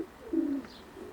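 Racing pigeon cock cooing on its nest bowl in a loft, a single short soft coo, close and quiet against faint background noise.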